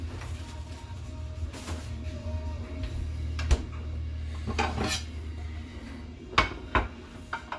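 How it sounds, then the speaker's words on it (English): Ceramic plates being lifted out and set down in a home kitchen, with scattered clinks and knocks of dishware over a steady low appliance hum, plus a few sharper clatters near the end. "so we get some plates out"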